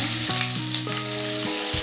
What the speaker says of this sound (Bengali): তেল গরম হয়ে গেলে তেলের মধ্যে দিয়ে দেব পেঁয়াজ কুচি